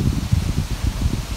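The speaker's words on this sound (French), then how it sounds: "Avec le vent qu'il y a, je ne sais pas si vous m'entendez bien, c'est le typhon qui passe au loin des côtes." Strong gusting wind from a typhoon passing offshore, blowing through camphor trees at a shrine, heard as a dense, steady low roar with buffeting microphone rumble.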